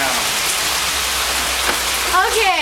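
Rain falls outdoors onto the ground in a yard, a constant broadband patter with a person briefly speaking near the end.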